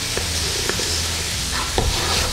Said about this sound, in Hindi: अब इसमें डालता हूँ मैं मशरूम